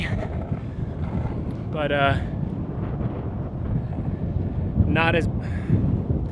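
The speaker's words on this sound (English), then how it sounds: "So I'm sorry if the wind is really crazy." Strong wind buffets the microphone with a constant low roar while a person speaks briefly.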